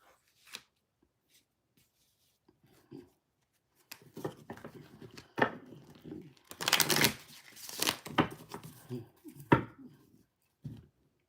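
Tarot cards being shuffled by hand, a quiet opening of scattered taps giving way to bursts of riffling and flicking, loudest in the middle, with a faint voice now and then.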